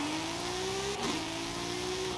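A racing car fitted with a racing 2JZ engine and racing tyres holds a steady, loud rev in Forza Horizon, its droning tone sliding slightly upward with no break.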